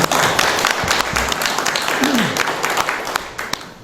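A crowd at a Democratic Party policy agreement event in Suncheon applauds candidate Seo Gang-cheol, with loud, dense clapping carrying on steadily and a faint voice sliding in briefly midway.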